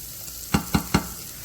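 Three quick, evenly spaced bursts of sizzling as onions sweat in a hot pan, with a low steady hiss between them and no voices.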